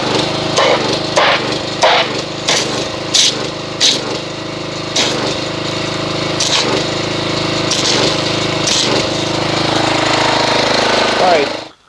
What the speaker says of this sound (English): So I'm going to go ahead and get the pressure washer.